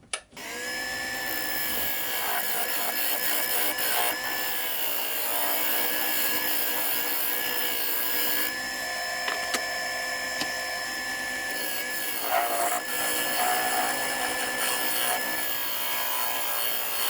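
An old wooden bowl held in button jaws spins on a lathe while a tool cuts into it, giving a continuous scraping, rasping whir with a few brief breaks and knocks.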